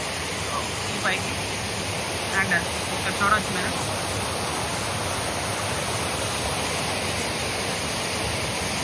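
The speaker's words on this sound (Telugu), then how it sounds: "ఇదే వాటర్ ఫాల్ గాయ్, చాలా బాగుంది." Steady broadband roar of rushing water at Kasipatnam waterfall in the Visakhapatnam area, continuous and close, with someone talking briefly over it.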